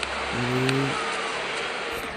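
A car engine hums in a Dream League Soccer mobile game session, with a brief rising tone early on over a steady broadband wash of background noise.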